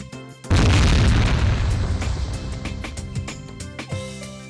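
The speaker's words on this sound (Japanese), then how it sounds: "距離も爆風も完璧だ。" A heavy explosion blast from the PS2 game Katekyo Hitman Reborn erupts with a loud deep boom, then rumbles and crackles as it slowly fades over a few seconds.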